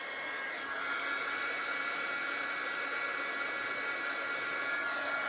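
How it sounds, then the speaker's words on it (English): Heat gun warming up for heat embossing a craft jar, a steady loud blowing roar of hot air that runs unbroken the whole time with no one speaking. "I'm going to bring in my heat gun and start warming it up."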